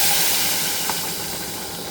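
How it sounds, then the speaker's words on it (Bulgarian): A steady steam hiss rises as water is poured onto rice in a hot pot while making popska yahniya stew, loud at first and easing slightly, with no talk. "Към една чаша ориз добавям 3 чаши и половина вода."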